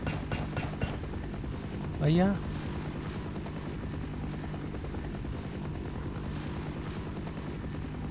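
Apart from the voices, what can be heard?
aircraft flying in video game Half-Life: Opposing Force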